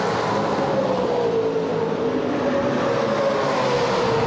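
A race car engine at a Muscle Car Masters race meeting, a loud, steady sustained roar with a continuous high-pitched tone, held close throughout with no break or pass-by fade.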